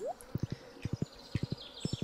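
A horse's hooves in Stardew Valley, trotting in a crisp, close clip-clop of quick triple beats repeated four times, with quiet gaps between them.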